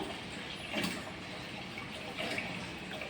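Water runs from a household tap into a container in the early morning, a soft, steady fill with slight swells, faint and a little distant, with no talking.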